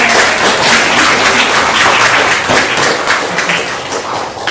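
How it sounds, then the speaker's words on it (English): Dense, loud applause from a church congregation at a Sunday service for a visiting class of students, continuous and close throughout with no talking. "If you'd all like to stand up, we'd like to applaud you."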